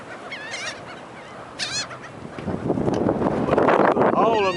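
A flock of seagulls squabbling over food, with sharp overlapping calls and honking cries rising over gusty wind noise and a low rumble, growing busier and louder toward the end.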